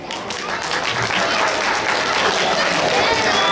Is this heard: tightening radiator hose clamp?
no